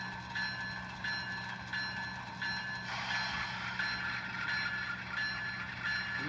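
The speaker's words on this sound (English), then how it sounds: "Now we're going to run this train backwards with the bell on." An NS HO scale model locomotive running in reverse gives off a steady, repeating electronic bell chime over mechanical motor hum, fairly quiet and close, with no talk.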